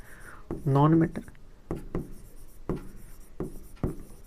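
Pen writing notes during a chemistry lecture makes several short scratchy strokes in separate bursts, close and fairly clear, with a brief spoken voice near the start.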